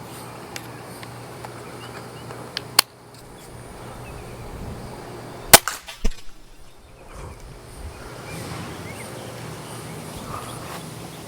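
A pistol crossbow shoots a bolt fitted with an aluminum insert and field point: a sharp snap at about three seconds, then a second crack with a quick impact thud near the middle, set against faint outdoor insect and background hum.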